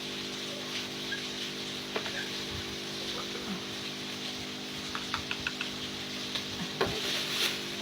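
Slow stirring of detergent powder into water with soft swishing and faint clinks, a steady low hum underneath, irregular light taps scattered through.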